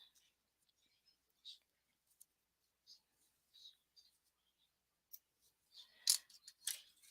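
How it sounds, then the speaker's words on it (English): Close, quiet snips of scissors cutting yarn during a crochet project, a few short crisp clips scattered among faint rustling and soft whispery speech. "We're gonna cut this. If I can find my scissors."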